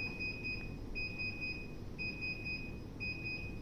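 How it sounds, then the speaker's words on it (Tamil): Indoor unit of a Daikin air conditioner sounding short electronic beeps in a steady pattern while its error code is checked, repeated groups of tones at regular intervals over a low background hum, with no one talking. "3 பீப் தான் கேட்குது."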